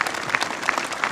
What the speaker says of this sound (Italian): e glielo vogliamo fare un applauso per questo atto d'amore?